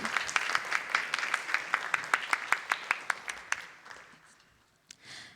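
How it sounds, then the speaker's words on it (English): Audience applause at a felicitation and dinner event, a burst of rhythmic hand clapping that stays strong, then thins out and fades to scattered claps and quiet. "Let us give a big round of applause to Srimati Savitri Ramanand."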